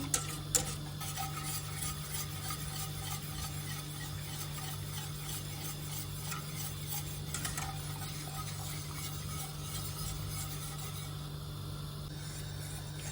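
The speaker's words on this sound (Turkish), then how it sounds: "Şöyle sürekli hızlıca karıştıralım." A spoon stirs milk pudding continuously and briskly in a pot, the scraping steady and close with light clinks against the metal. Nobody speaks.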